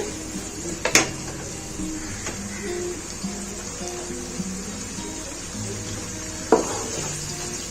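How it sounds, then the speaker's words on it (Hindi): Onion sautéing in oil over a medium flame for achari bhindi, a soft steady sizzle running throughout with two brief clinks of utensils near the start and end, and no talking. "प्याज को हल्का सा सोता करना है मीडियम फ्लेम पर"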